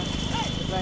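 Hooves of racing bulls pulling a bullock cart thud in quick, uneven beats close by, mixed with shouting voices and a steady high whine in the background.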